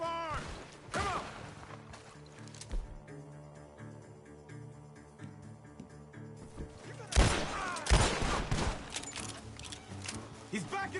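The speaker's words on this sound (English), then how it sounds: "Gunshots are coming from that barn!" Sharp bursts of gunfire from a barn and impacts ring out over the Red Dead Redemption 2 game soundtrack, with loud clustered shots near the end and music droning underneath.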